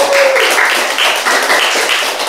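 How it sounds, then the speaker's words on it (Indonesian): A primary school class claps in a rapid, steady patter of many hands at close range, loud and continuous for a couple of seconds. "Betul sekali, tepuk tangan."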